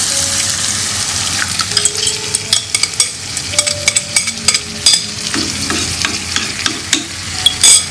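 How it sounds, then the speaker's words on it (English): Curry base frying in a pan for murungai kurma, giving a steady close sizzle broken by repeated clinks and scrapes of a utensil stirring it. "And now I'm going to add our curry base."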